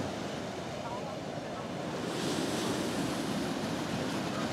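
Sea waves wash steadily onto Blackpool beach, a loud continuous surf roar with wind buffeting the microphone while people talk nearby.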